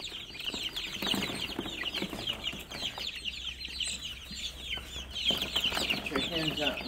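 Young two-week-old chicks and hens clucking and chirping constantly in a farm coop, a dense busy chatter of many birds close by with a few louder bursts.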